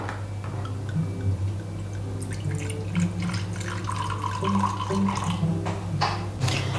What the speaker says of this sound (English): Now, the second is to pour 50 ml of this into a cup.